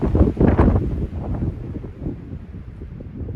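Strong wind buffets a microphone at a mountain campsite, gusting hardest at first and then settling into a steady, rumbling roar, with no voices.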